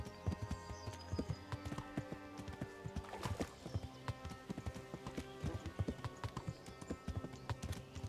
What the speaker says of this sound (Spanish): Ahora lo vamos a hacer a caballo.